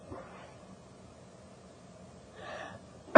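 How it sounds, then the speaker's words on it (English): A person about to sneeze: quiet breathing, a sharp gasping inhale, then an abrupt loud burst cut off right at the end. "Oh, I'm going to sneeze."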